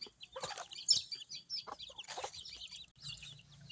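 Chickens being fed rice, with soft clucks and chirpy calls in scattered bursts at moderate distance and low level, with no talking.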